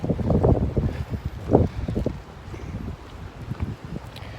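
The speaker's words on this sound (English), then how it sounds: "A little windy out here." Wind buffets a microphone outdoors on a warm January day in snowy Canada, in low, rumbling gusts that rise and fall, with a louder thump of wind midway and no talking.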